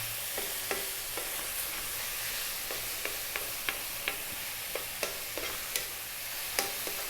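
Pork stir-fried in a pan for pork fried rice, a bright steady sizzle punctuated by quick spatula taps and scrapes at a brisk uneven pace, close and moderately quiet.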